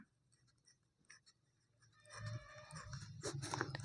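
Pen scratching on paper during a maths lesson, faint strokes early and then busier, louder scribbling with light taps, heard alone without talk.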